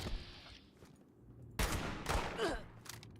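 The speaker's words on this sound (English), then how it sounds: "Stop shooting me." Bursts of gunfire in the Fallout 76 video game strike at the player: a harsh crackling volley at mid-clip followed by another sharp burst, separated by quieter gaps of ambient game sound.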